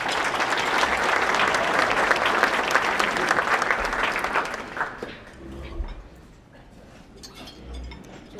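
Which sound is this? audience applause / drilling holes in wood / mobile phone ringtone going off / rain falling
audience applause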